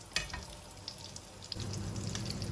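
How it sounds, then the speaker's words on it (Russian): Fish patties fry in vegetable oil in a hot pan over moderate heat, a soft, close sizzle with small crackles that thickens and grows steadier partway through. "Жарю котлеты на умеренном огне чуть ниже среднего, примерно по 10-12 минут с каждой стороны."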